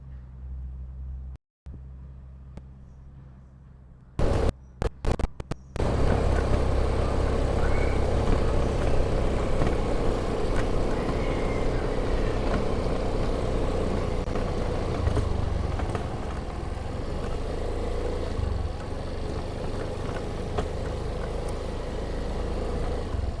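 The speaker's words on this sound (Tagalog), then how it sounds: "Turn ng truck." A large truck's engine runs steadily and loudly through a slow turn, a continuous low rumble that stays close after a brief quiet start.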